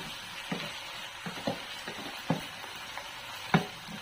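Tomatoes dropping into a sizzling pan while cooking Filipino ginataang manok, a soft continuous frying hiss punctuated by several distinct clacks and taps of pieces landing, quiet and without talk.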